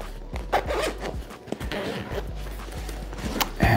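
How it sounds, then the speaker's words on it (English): The front zipper on a heated vest is pulled open in a quick series of close, scratchy rasps with small clicks, loud and clear with no voices. "Let's unzip it."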